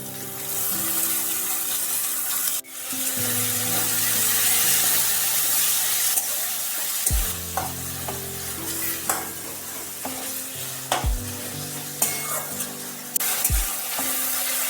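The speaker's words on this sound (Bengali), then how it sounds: "এবার আমি এর মধ্যে দিয়ে দিচ্ছি চিকেন কিমাগুলো।" Chicken mince frying and being stirred in a hot pan, a steady sizzle with repeated scraping strokes of a spoon, a sharp thud near the start as the mince goes in, close and loud with no talking.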